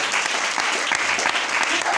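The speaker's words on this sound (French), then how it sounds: "On acclame le Seigneur." A church congregation claps in steady, dense applause that fills the whole moment with no pause, loud and close.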